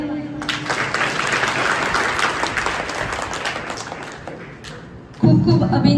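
Applause from an audience at a school Independence Day celebration in Gangta, a dense, steady clapping crowd lasting several seconds before a louder burst near the end.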